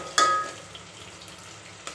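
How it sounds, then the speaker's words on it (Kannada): Onions fry quietly in a pan with a soft sizzle, a brief clink of a utensil at the start and another light knock at the end. "ಈರುಳ್ಳಿ ಸ್ವಲ್ಪ ಚೆನ್ನಾಗಿ ಬೇಯಲಿ."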